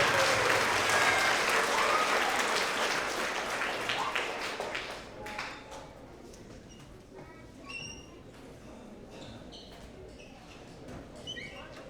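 A school award assembly crowd applauding 4th and 5th grade award winners, loud sustained clapping that gradually thins out into scattered claps over about twelve seconds.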